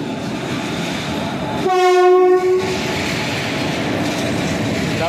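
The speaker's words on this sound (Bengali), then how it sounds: "এখন এই ট্রেন আসছে মানে তাম্বরাম থেকে সাঁতরাগাছি" A Tambaram to Santragachi train arriving at a station, with a steady loud rumble of rolling wheels and one long sustained horn blast partway through.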